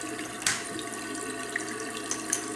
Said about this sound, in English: I'm just going to start by rinsing my brush in the water and get a little bit of water on my hand